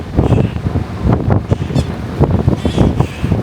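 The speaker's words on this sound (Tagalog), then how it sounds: "Mahangin lang, hindi ko lang alam kung naririnig nyo ko." Strong gusty wind buffets the microphone on a Maldives island coast near Male, roaring in uneven surges with crashing surf beneath, loud and close throughout with no voices.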